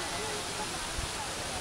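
At a Matheran viewpoint in the monsoon, a waterfall keeps up a constant broad hiss of falling water, even and unbroken, with one faint low thump near the middle.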